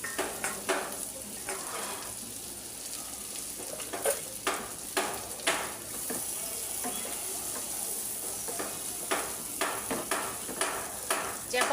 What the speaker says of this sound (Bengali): চাপা শুটকির মধ্যে একটু পেঁয়াজ রসুন বাড়ায় দিতে হয়, যে একটু ভাজা হোক